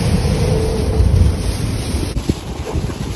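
Gusty wind buffeting the microphone in a continuous low roar, with a brief thump partway through and no voices.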